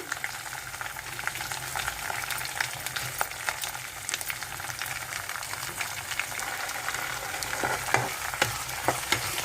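Green chilies and curry leaves frying in a pan for lemon rice, a continuous crackling sizzle with scattered sharp pops and spatters, close and steady, with no talking.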